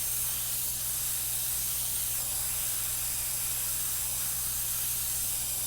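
An oxy-acetylene welding torch burns with a steady, unbroken broadband hiss and a low roar underneath, constant and close throughout without pauses.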